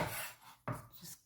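A knife cuts through fruit on a board, with a quiet crunchy slice and a sharp tap as the blade meets the board, heard up close and faint.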